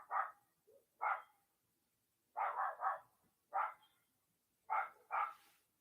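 A dog barks repeatedly at a distance, single and doubled barks spaced out over quiet background.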